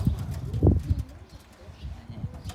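A pigeon gives a short, low, throaty coo at close range, a couple of soft rolling pulses within a brief moment.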